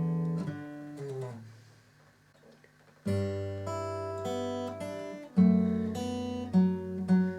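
Fingerstyle acoustic guitar plays a pre-chorus, with plucked chords and bass notes, a pause, then stronger strummed attacks and slides, close and clear without voices.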